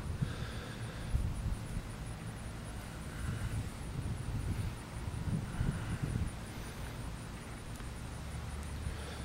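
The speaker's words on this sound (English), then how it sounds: "Right now we got some wind" Steady wind blowing outdoors at a campsite fire-starting spot, a continuous low rumbling buffet against the microphone that swells and eases in gentle gusts, with no voices over it.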